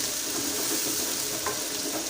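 Steady sizzling and crackling of onions frying in a pan, continuous and fairly close, with no voices.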